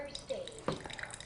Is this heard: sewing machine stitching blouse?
no